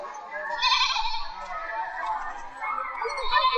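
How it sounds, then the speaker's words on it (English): A goat bleats in a wavering, nasal call held for about three seconds, fairly close and loud, with a second rise toward the end. "Father, Son and Holy Goat. Bah."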